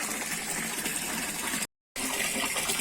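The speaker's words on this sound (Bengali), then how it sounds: "আর এই যে জল ভরে নিচ্ছি" Tap water gushes steadily into a basin, a loud continuous rushing stream close by, broken only by a brief gap before it resumes.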